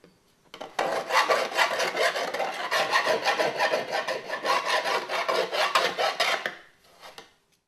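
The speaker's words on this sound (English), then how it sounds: "a pretty clean hole there that you can deburr with a file" A file deburring a freshly cut hole in sheet metal, a close rasping scrape in quick repeated strokes for about six seconds before tapering off, with no talking.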